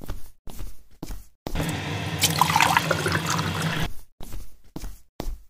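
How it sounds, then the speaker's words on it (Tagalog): Water is poured out for a drink in a Filipino radio-drama scene, a steady splashing fill lasting about two seconds, bracketed by brief knocks and shuffling sounds before and after. "Ikuha mo nga ako ng tubig"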